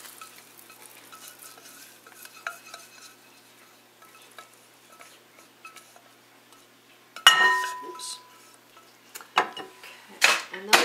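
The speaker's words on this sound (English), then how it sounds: "And then we just stir that together." Melted butter is being stirred into graham cracker crust crumbs in a mixing bowl: soft, faint scraping at first, then louder clinks and scrapes of a utensil against the bowl near the end.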